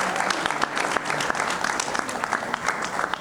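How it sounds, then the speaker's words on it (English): A tech conference audience claps steadily and fairly loudly for a few seconds, a dense patter of many hands with no voices standing out. "give her a big applause"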